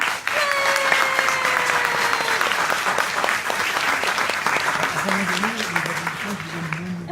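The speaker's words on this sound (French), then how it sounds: "Je vous demande de faire un tonnerre d'applaudissements pour elle." Audience at a regional business event on Réunion Island giving a loud, sustained round of applause for a speaker, dense clapping throughout with voices and a cheer audible over it.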